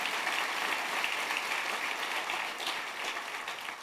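A church congregation applauds in a dense, steady wash of clapping that fades slightly toward the end.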